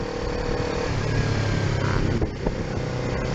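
A motorcycle rides along on a tour to a tea plantation in Wonosari, Malang, East Java, with a steady, loud engine drone that continues throughout and a slight swell in the middle.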